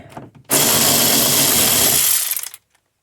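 A power driver unscrews a T30 Torx fastener holding an interior side panel on a 2011 Mercedes GLK X204, a single close, loud whirring burst of about two seconds that stops abruptly.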